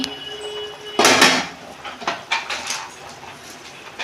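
The lid comes off a cooking pot of mixed vegetables with a sharp metallic clatter, followed by lighter clinks and scrapes of pot and utensil.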